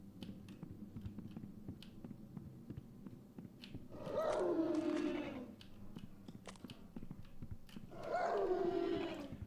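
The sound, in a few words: creature howling in Clive Barker's Undying video game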